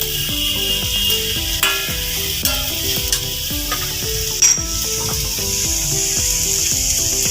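Vegetables sauté in a pan over a low gas flame for a momo filling, a steady sizzle broken by repeated stirring scrapes and a few light clinks of the utensil against the pan, close up.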